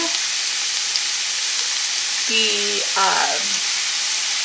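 Andouille sausage sizzles in a pot for Zuppa Toscana, a constant loud frying hiss with a couple of brief squeaky scrapes partway through.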